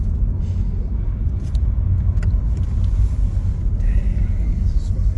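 A yellow 1985 Pontiac Fiero GT with a V6, running and driving after sitting for years, gives a steady low engine rumble and road drone heard from inside the cabin.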